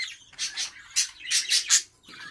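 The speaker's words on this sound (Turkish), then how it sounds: "Bugünkü videomuza sultan papağanlarımızla başlayalım." Pet cockatiels calling up close: a quick burst of about six shrill, raspy squawks in uneven rhythm, loud and clear over a quiet room.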